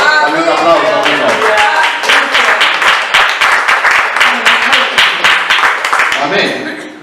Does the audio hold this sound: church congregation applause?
yes